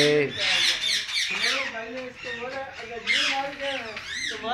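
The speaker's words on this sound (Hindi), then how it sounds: "सारे तोते तोतियाँ कह रहे हैं।" Harsh, raucous parrot squawks repeat in bursts throughout, loud and close, with several birds calling over one another.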